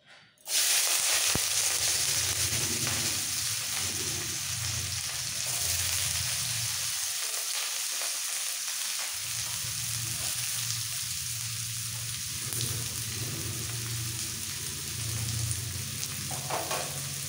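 Chopped vegetables such as carrot and green beans fry in hot oil for street-style pav bhaji, giving a loud, close, continuous sizzle and crackle with stirring. The sizzle briefly drops away partway through, then resumes.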